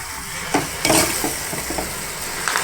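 Green chillies coated in gram flour roast in hot oil, a busy close sizzle broken by repeated stirring scrapes and spoon knocks against the pan.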